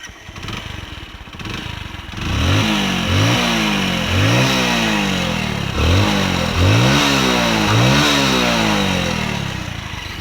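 A Hero HF Deluxe motorcycle engine starts, then idles with a series of sharp revs rising and falling in pitch, loud and close, without any talking.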